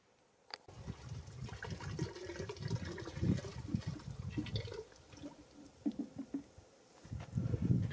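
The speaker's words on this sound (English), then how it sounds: "so that I can easily pour the water in" Water pours from a jug into a camper's solar shower bag outdoors in the Arizona sun, a faint, uneven gurgling and splashing that comes in bursts, close by and quiet.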